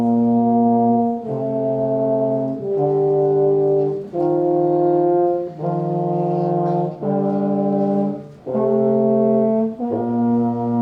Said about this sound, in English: they're going to demonstrate the beautiful sound the euphonium makes